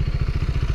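A warmed-up motorcycle engine running close by, a loud, steady low throbbing pulse with a rapid even rhythm throughout.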